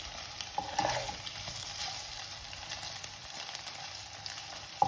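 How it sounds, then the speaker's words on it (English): Paneer fries and sizzles in a pan with a steady hiss, while a few stirring scrapes and light clinks come through near the start and at the very end. "We all like it fried, so I just fry it a little"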